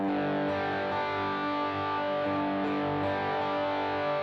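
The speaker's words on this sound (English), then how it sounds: "now if I add in this green screen, which is based on a tube screamer," Electric guitar played through a Tube Screamer-style green overdrive pedal into a dirty amp, a sustained, thick distorted chord ringing steadily and fairly loud with a gritty, buzzing edge, no voice.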